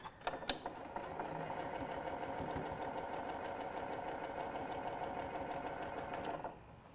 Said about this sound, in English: I'm sewing on the Continental M7 from Janome